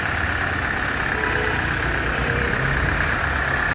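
A 2015 Mahindra XUV500 W10 engine idles close by with a steady, even rumble and hum that holds unchanged throughout, with no voices.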